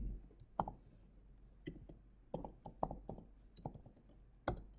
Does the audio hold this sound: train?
no